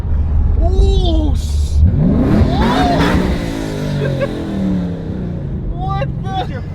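A loud Chevrolet Camaro revs and roars on a downtown street, with sweeping engine pitch and passing-traffic noise, while excited voices shout over it close by.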